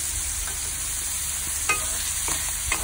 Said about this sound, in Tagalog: Ihalo na natin ang giniling dyan, guys.